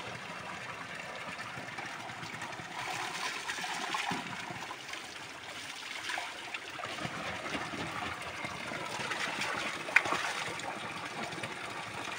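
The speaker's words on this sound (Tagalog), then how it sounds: "Mag-iigib na muna kami ng tubig." Water trickles and flows steadily at a spring where water is being fetched on a hillside farm trail, a continuous close burble with no talking.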